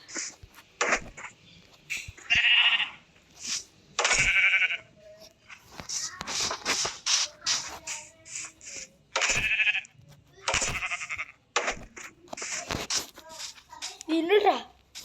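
Minecraft sheep bleat in short, sharp repeated cries, scattered among frequent child chatter and game noise throughout.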